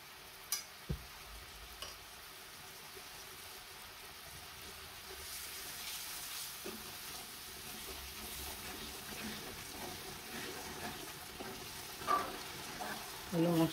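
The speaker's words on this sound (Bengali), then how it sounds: "মশলাটা কষাচ্ছি।" Spice masala with chili powder frying and being stirred in a pan for beef tripe bhuna, a steady soft sizzle with occasional spoon scrapes and knocks, close but fairly quiet.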